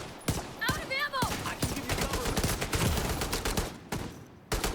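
Gunfire aimed at NPCs in a video game, dense rapid volleys of loud shots that continue almost without pause, close, with a voice heard briefly over the shooting.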